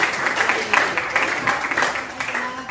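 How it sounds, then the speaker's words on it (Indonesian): A classroom of students briefly claps for a classmate named Jenny, a short, dense burst of steady applause from a small group nearby. "Tepuk tangan untuk Jenny, ya."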